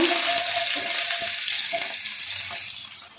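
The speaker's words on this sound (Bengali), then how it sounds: "রসুনগুলো একটু নেড়ে নেব।" Crushed garlic sizzling in hot oil with tempered spices in a pan while being stirred, a dense bright hiss with soft scraping strokes, close and steady, gradually fading toward the end.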